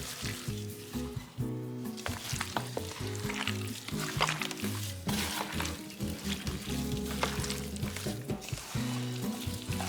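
Curry powder, three heaping tablespoons, being stirred into red and orange peppers, onion, scallion and tomatoes frying in a pan; steady loud sizzle with scraping stir strokes throughout, no talk.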